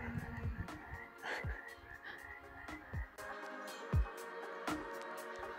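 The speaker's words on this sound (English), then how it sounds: "Can you hear the frogs?" Frogs croak at a pond near Trout Lake and Mount Adams: irregular, close, sharp calls pop out one after another over a quiet outdoor background, with a faint voice briefly present.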